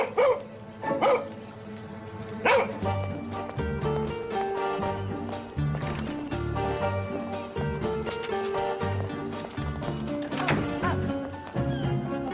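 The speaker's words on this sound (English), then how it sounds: "Stray dog." A stray dog barks repeatedly, loud close woofs in bursts with short whimpering yips between, over a low continuous background.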